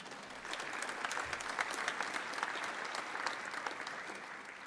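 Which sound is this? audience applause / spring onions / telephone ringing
audience applause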